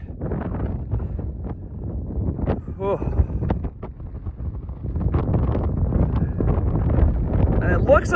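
Strong wind buffets the microphone on a mountain ridge summit in heavy, gusty rumbles, with a voice speaking briefly under the roar.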